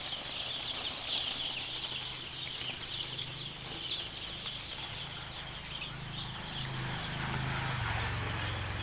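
Day-old layer chicks in a brooding setup chirp in a dense, continuous high-pitched chorus, fairly faint and steady throughout.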